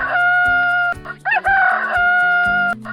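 A rooster crows a single loud, drawn-out cock-a-doodle-doo close by, ringing and tonal, over a steady musical backing.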